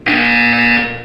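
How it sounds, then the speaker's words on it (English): A loud, flat electronic buzzer from the game Portal 2 sounds once, a steady harsh tone lasting about a second with a sharp onset and no voices over it. "You will hear a buzzer."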